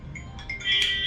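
A mobile phone ringtone chimes with a short rising series of bright electronic tones, fairly close, over low background rumble in a mobile repair shop.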